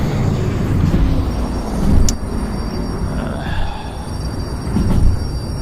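A locomotive in the train-driving game Derail Valley rumbles steadily with heavy low-end engine drone and a few brief louder swells, with no talk.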